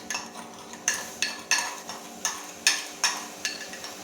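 A spoon mixes coffee for a cappuccino inside a cup, making about eight evenly spaced clinking scrapes against the sides, close and clear with no talk.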